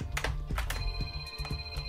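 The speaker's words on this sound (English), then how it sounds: "And my phone is ringing." A phone rings during a Roblox Flee the Facility gaming session, its electronic ring repeating in short bursts over a low background hum, with a few thumps and clicks scattered between the rings.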